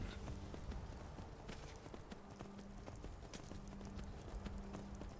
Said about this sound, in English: let's get off the horse here and see who we can find